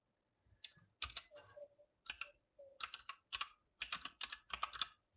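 Someone types on a computer keyboard nearby in short irregular bursts of crisp key clicks, with brief pauses between groups of keystrokes in a quiet room.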